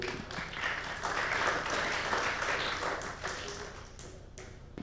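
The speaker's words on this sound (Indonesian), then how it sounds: "Tepuk tangan dulu." A workshop audience claps steadily for several seconds, a dense patter of many hands that stays even before thinning slightly at the end.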